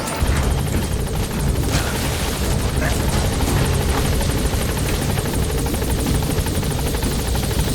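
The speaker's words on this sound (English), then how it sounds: "Support helicopter Roger" Loud, continuous support helicopter rotor thrum with a steady whine in Metal Gear Solid V: The Phantom Pain, holding close and constant throughout without pause.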